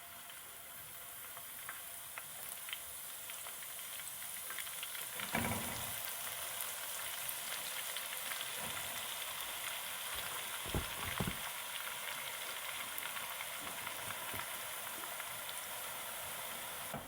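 Grated carrots fry in hot ghee for gajar ka halwa, a continuous close hiss and crackle with a few brief stirring scrapes, steady and fairly quiet throughout.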